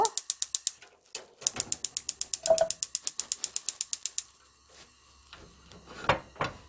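A gas stove burner being lit while cooking a spicy dried pollack and bean sprout soup: a fast, even run of sharp igniter clicks, a short pause, then another long clicking burst, close and crisp with no talk.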